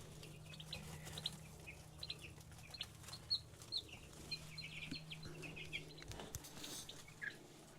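Chickens cluck and chirp softly in the background on a homestead, scattered short calls with a brief flutter of wings, faint and close to quiet.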